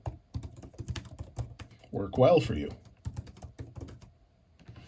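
Rapid, close clacking of keys on an Apple iPad Pro Magic Keyboard as someone touch-types, steady rhythmic tapping running under a man's speech.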